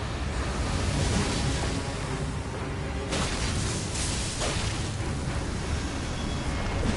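A lava explosion in the Elden Ring Nightreign video game roars as a continuous dense rumbling blast, loud and broadband throughout, with a surge partway through, and no voices.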